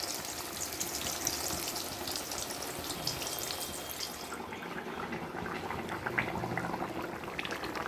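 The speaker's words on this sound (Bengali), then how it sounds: "মুগের ডালটাই এদিকে সেদ্ধ করতে বসিয়ে দিয়েছি।" Moong dal boiling in a pot on a home kitchen stove, a faint continuous bubbling and simmering hiss that carries on steadily throughout, with no voices.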